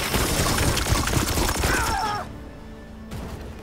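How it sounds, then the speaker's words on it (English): Gunfire as an enemy is shot in the Warhammer 40k video game Chaos Gate - Daemonhunters: a dense, rattling burst of shots for about two seconds that cuts off sharply, leaving a faint ringing tail. "Yeah, let's just shoot him."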